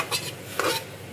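Water poured into a hot frying pan gives two short hissing bursts of steam, with a utensil stirring against the pan between them, close and moderately loud.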